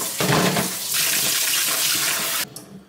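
Tap water runs steadily into a sink while rinsing a Ninja Creami blade, a close, continuous splashing stream that cuts off abruptly near the end.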